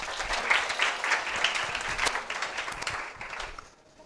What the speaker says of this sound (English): So please give me a great round of applause for these two people right now,